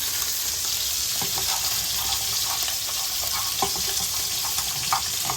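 Couscous toasting in a hot pan gives a steady close sizzle and crackle, broken by scattered soft scrapes and clicks of stirring, with no voices.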